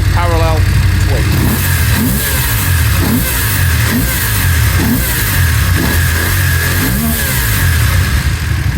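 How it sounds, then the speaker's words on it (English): A 2019 BMW F750 GS adventure motorcycle with a parallel-twin engine revs up repeatedly in loud, close throttle blips over a rumbling idle, with a voice talking over it. "Nice, tight, proper sounding BMW parallel twin."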